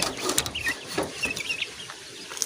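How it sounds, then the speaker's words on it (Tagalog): Chickens cluck and chirp in a backyard, with small high peeps scattered among soft clucks, close and moderately quiet. "Ito yung apat na mga sisiw."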